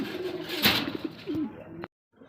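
A racer pigeon gives low cooing calls close by, with a brief sharper sound in the middle, then the clip cuts to near silence.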